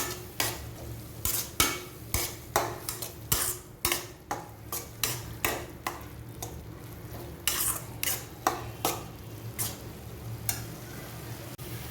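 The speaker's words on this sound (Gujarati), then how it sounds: "હવે આપણે આને બરાબર રીતે મિક્સ કરી લઈશું" Masala pav spice mixture of red chili powder, coriander-cumin powder and pav bhaji masala being stirred in a pan, with a steady run of close, sharp scrapes and clinks of a utensil against metal over a low background hum.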